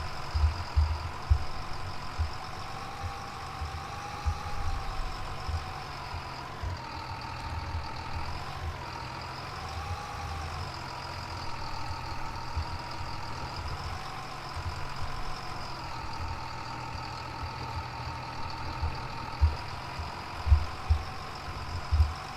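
An engine idles at a steady, even hum with a low throbbing pulse, continuous and fairly close throughout.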